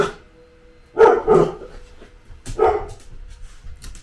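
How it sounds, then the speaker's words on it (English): Two short bursts of dog barking, a few seconds apart and fairly close, with quiet room sound between them. "and here goes the barking"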